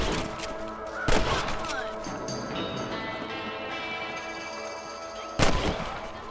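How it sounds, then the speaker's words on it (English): Gunshots from shooting rabbits on a ranch in Red Dead Redemption: two sharp, loud blasts ring out several seconds apart over a busy game soundscape. "They're better at shooting rabbits than outlaws, I see."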